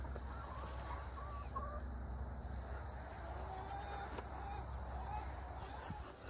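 A spoiled rooster in a backyard flock clucks in the morning, soft and intermittent, over a constant outdoor background hum.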